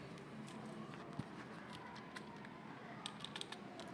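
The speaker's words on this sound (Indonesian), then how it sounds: "Jadi silakan Bapak Ibu ketik secara manual ya" Faint manual typing on a computer keyboard, with soft scattered keystrokes in a quiet room and a small cluster of taps near the end.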